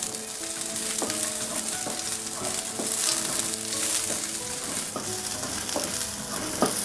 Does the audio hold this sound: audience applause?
no